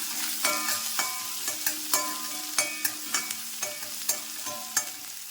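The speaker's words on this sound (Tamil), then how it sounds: "இப்போ வெங்காயம் கருகப்பிளை கொஞ்சம் வதக்கிக்கலாம்" Onions and curry leaves sauté in a pan under a soft sizzle, with a spoon striking and scraping the pan in a steady rhythm of sharp, close clinks.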